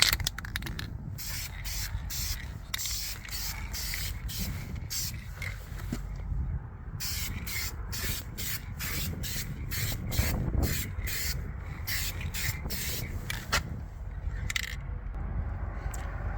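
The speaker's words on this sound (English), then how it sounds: "After 10 minutes I'm gonna apply a second layer of the paint." Paint being sprayed onto the rust-repaired rocker panel of a 2014 Ford F150 in repeated short bursts, a steady close hiss pulsing on and off over a low background rumble.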